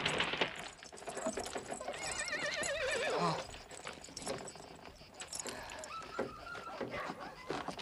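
A horse whinnies with a wavering high neigh while hooves clip-clop and tack jangles, amid outdoor movement and faint scattered voices in a 1970s Western scene.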